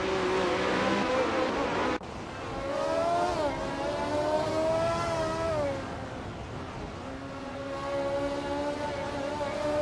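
The engine of a 1971 Tyrrell 02 race car whines in a racing video game, its pitch rising and falling through gear changes as other engines drone nearby, with faint commentary underneath.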